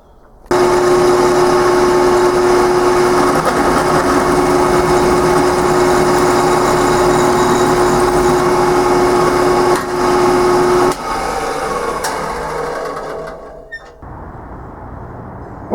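A power drill runs steadily for about ten seconds, boring a hole in a kerosene lantern burner cup for a Coleman lantern conversion, then slows and winds down. Loud and close, with no voices.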